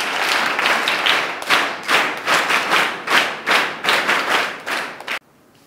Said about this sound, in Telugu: ఒకసారి చప్పట్లతోటి